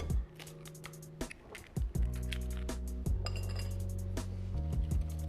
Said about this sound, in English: Keep mixing, stirring until the custard sugar and butter mix properly.